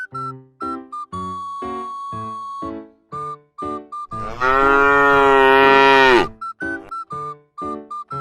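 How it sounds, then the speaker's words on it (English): A cow lets out one long, loud, close moo lasting about two seconds, set between bouncy whistled music notes before and after. "cow is a farm animal"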